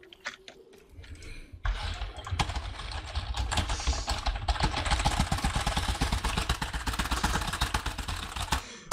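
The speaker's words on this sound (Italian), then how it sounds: "Basta spaccare la tastiera." A computer keyboard is hammered hard while gaming, a dense, fast run of loud clacking keystrokes that starts after a quieter opening and continues almost without pause.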